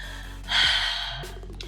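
A single quick breath: a short, sharp exhale demonstrating a breathing exercise for core conditioning, close and fairly soft, with a faint sigh-like tail.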